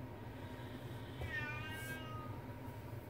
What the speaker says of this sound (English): It's my cat, I don't know if you can hear him.